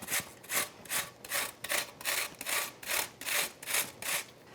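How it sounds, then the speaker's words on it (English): An onion is grated straight into a bowl with about ten rhythmic back-and-forth rasping strokes, close and fairly loud, with no voices. "let's work on our onion, and we'll grate this right into the bowl"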